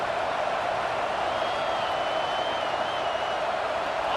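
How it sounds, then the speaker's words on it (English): A home crowd at a college football game between Arizona State and Arkansas roars in a dense, steady wash of cheering and applause that never lets up, heard from a distance. "how nice is it to have the home crowd going absolutely bananas?"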